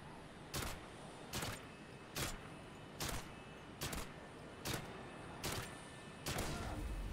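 A Vector SMG without FMJ rounds fires eight separate evenly spaced shots in Modern Warfare 2 (2009), each a sharp, crisp report with brief pauses between them and a quiet background in the gaps.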